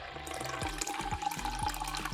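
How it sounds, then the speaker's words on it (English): Liquid jelly pours steadily into a tin, a continuous close watery splashing and trickling that runs without pause. "Let's start pouring our jelly."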